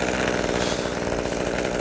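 A chainsaw runs steadily during pruning of a cherry tree, a loud continuous buzzing engine drone held at an even pitch throughout without pauses, close to the listener and with no voices over it.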